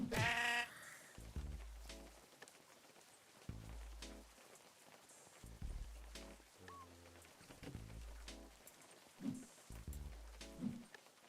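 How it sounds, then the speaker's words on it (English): Sheep bleat in a video game, repeated short bleats arriving in regular bursts over a soft rain-like patter, with occasional sharper hits mixed in. "Do I kill the sheep?"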